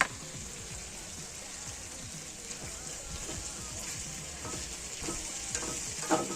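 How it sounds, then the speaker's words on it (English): Home-grown garden vegetables sizzle quietly in a pan while a stirring tool scrapes and taps against it, a soft steady frying hiss with occasional clicks. "Yeet in the pan, time to stir."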